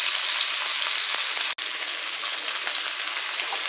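Veal burgers sizzle steadily in a cast iron pan with bacon fat and meat juices, a dense continuous frying hiss with brief crackles and one short break partway.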